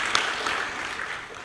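Audience applause at a ceremony decorating newly promoted service officers, a steady broadband patter of many hands sustained evenly for the whole stretch.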